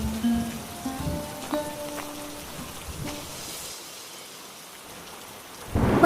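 Heavy rain pours steadily on a rainy day, with low thunder rumbling through it and a loud burst of rain or thunder near the end; no voices.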